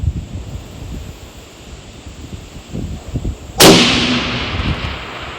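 A single sharp, loud crack from a lightweight Bergara rifle fired outdoors, trailing off in a long echo under steady wind noise.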